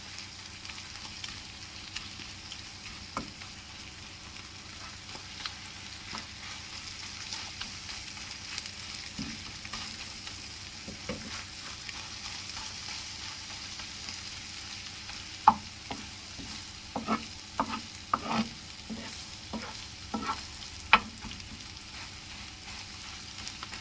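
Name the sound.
frying onion and tomato for an egg omelette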